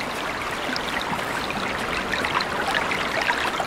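River water flows steadily in the Way of the Hunter hunting game, a continuous even gurgle and trickle at moderate level with no talk over it.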